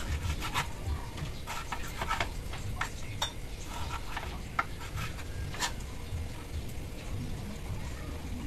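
A knife chops seasoning ingredients for chicken liver adobo on a board, a run of irregular sharp taps over a faint background hiss, close by.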